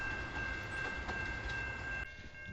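A CN train pulls out of a station on the Strathroy Subdivision with a loud, steady rolling rumble, a sustained high tone over it, and the noise easing slightly near the end.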